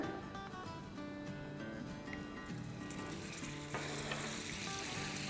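Butter sizzling in a pan of melted, honey-colored caramelized sugar, a steady soft frying hiss throughout with no talking.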